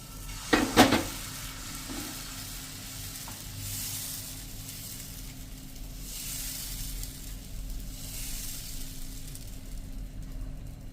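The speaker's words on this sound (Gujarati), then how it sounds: "એમાંથી આપણે જેવડો ઢોસો ઉતારીશું એવડો ઉતારી લેશું" Bottle gourd dosa batter spread on a hot pan gives a steady, soft sizzle and hiss throughout, after a couple of brief scraping clinks at the start.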